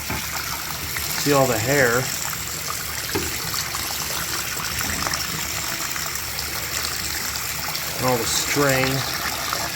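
Water pours and gushes steadily over the cyclone filter of an Amway ClearTrak/WMJ Workhorse vacuum as it is rinsed nearby, with a person talking over the flow.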